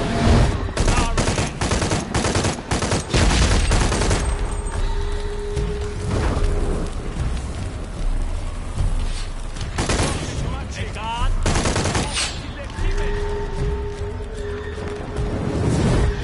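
In the video game Shadow of the Tomb Raider, rapid bursts of gunfire crack loud and close, with clustered shots and booming hits broken by brief pauses, while someone talks over the action.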